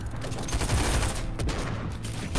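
Rapid, sustained SMG gunfire in a competitive video game match, dense and loud bursts filling the moment with little pause.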